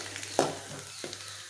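Curry leaves, cumin, pepper, garlic and ginger fry in a pan with a soft background crackle, broken by two short stirring knocks spaced about half a second apart.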